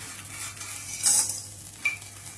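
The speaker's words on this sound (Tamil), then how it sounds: "உப்பையும் லேசா வறுத்துக்கணும்" Chillies and salt dry-roasting in a pan with no oil, for Tamil-style paruppu podi, give a soft dry rustle with a couple of brief, sharper scraping stirs close by, and no voices.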